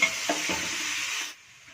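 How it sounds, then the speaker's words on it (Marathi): Methi dal vegetable cooking in a pan gives a brief steady hiss of sizzling with a couple of soft stirring knocks, cutting off sharply to near quiet after about a second. "आता आपली भाजी छान आपण शिजू देणार आहोत"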